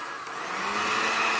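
A blender whirs at high speed through chilled milk for a cream puff filling, a steady close motor drone that rises slightly in loudness, with no talking.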